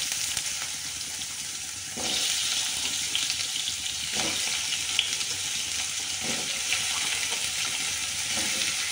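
Diced, washed potatoes drop into hot oil with five-spice seeds, setting off a loud, even sizzle that swells after a couple of seconds and carries on steadily with faint stirring clicks.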